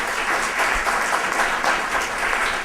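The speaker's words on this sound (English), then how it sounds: "Let's get a round of applause for our judges" An audience at a startup and entrepreneurship panel gives the judges a round of applause, dense steady clapping that holds loud throughout.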